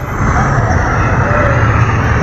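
Motorcycles ridden by a passing group in the mountain town of Naran at evening, a steady loud engine drone filling the clip with no clear pass-by peak.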